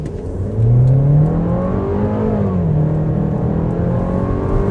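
A 2026 VW Tiguan SEL R-Line Turbo pulls away hard on an open road, its engine surging loudly and then rising steadily in pitch as it climbs through the gears, heard from inside the cabin with no speech.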